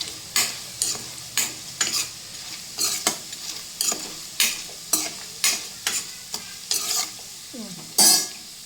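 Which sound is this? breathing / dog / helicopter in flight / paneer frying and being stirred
paneer frying and being stirred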